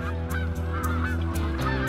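Geese honking as trained border collies chase them off, a flock calling repeatedly in loud, close, overlapping honks at a quick irregular rhythm.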